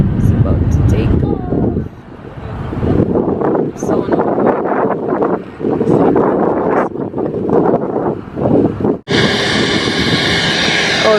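A JetBlue airplane taking off roars as a loud, sustained engine rumble mixed with heavy wind buffeting on the microphone outdoors at a Florida beach, while people talk over it.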